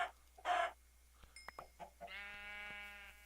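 Minecraft chickens clucking in a game world, several short clipped calls and a brief stuttering run of tones, fairly close and alone with no talk.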